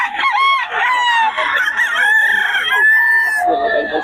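A Gilmore Sweater gamecock rooster crows loudly and close by in one long, drawn-out call with a rising and falling pitch, and faint clucking or a second bird can be heard near the end.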